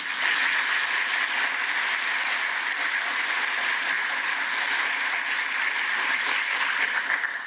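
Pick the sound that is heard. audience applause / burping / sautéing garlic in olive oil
audience applause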